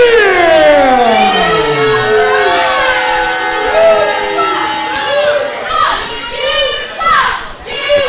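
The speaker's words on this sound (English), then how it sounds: "The crowd does not like Midnight Premiere at all." A wrestling crowd reacts against the tag team Midnight Premiere at a ProSouth Wrestling event, with loud, close, high-pitched shouts and jeers from many voices, including children, rising and falling over several seconds.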